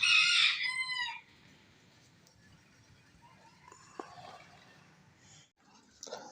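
A broody hen's loud calls open the clip, then fade into quiet, soft scratchy sounds from the hen sitting in a box, with a few faint clucks near the end.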